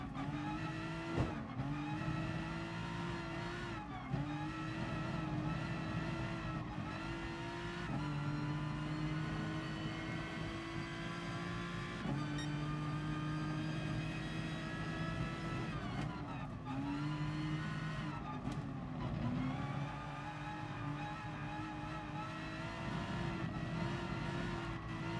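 A race car in Gran Turismo Sport laps a track with a steady, droning engine tone that rises and drops through gear changes, with faint tyre noise, continuous and fairly quiet, with no talking.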